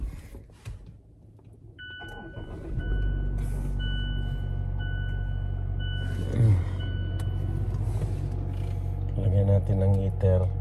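A car engine idles steadily while warming up outdoors on a drizzly morning, a low continuous rumble with beeping tones and clatter around it; people talk briefly over it.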